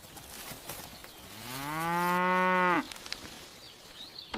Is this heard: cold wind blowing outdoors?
no